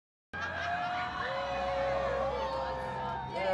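A large outdoor crowd gathered on Francis Field for the first Florida Man Games, a steady wash of cheering, whoops and raised voices that holds loud and continuous throughout.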